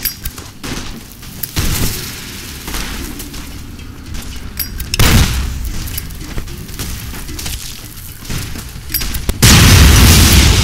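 Heavy weapons explode in a modded Fallout: New Vegas militia battle: repeated loud booms and blasts with crackling bursts and debris, ending in a sustained roaring explosion.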